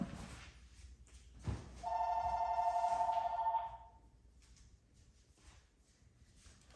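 A telephone rings in a steady electronic trill lasting about two seconds, fairly loud and close, with a quiet room murmur before and after.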